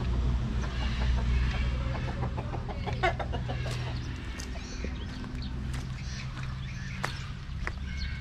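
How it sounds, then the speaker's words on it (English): Chickens cluck and small birds chirp in short scattered calls over a low, steady farmyard rumble. "These tiny little birds."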